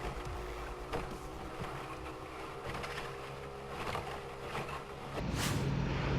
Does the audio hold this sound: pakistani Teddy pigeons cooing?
no